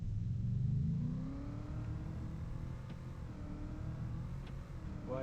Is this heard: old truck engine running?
yes